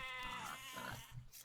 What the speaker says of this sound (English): Trying to get used to using my goats